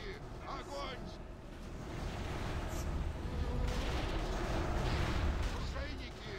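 Heavy cannon fire from a gunship in an online game battle, dense booming volleys rolling continuously and loud, with voices talking over the barrage.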